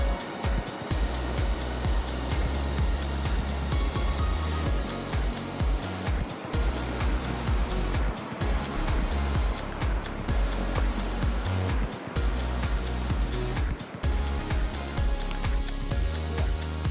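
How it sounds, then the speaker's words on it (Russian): Water spills over a small pond dam and drops down a short ledge, making a continuous, dense rushing roar that stays loud and close throughout with no talking. "Воду сбрасывает со ставочка."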